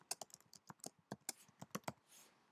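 A password typed on a computer keyboard: a quick, uneven run of about fifteen crisp close keystrokes, quiet and alone, ending in a softer rustle.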